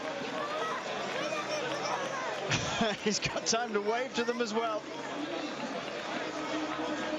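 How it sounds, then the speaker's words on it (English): A crowd cheers a cyclist riding into the Roubaix velodrome at Paris-Roubaix, a steady hubbub with a few louder clapping and shouting swells. A commentator talks over it. "the crowd are going to cheer him all the way home now"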